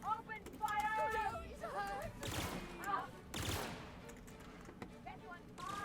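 Gunfire crackles in The Outer Worlds video game, bursts of shots mixed with game voices and tonal effects, with broadband blasts around the middle, all fairly loud and close.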